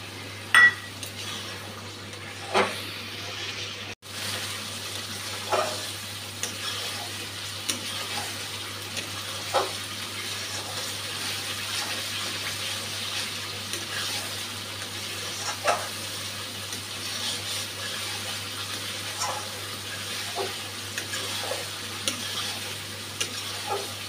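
A chili and turmeric powder paste fries in a pan, a faint continuous sizzle broken by occasional soft stirring scrapes and light clinks of utensil against the pan.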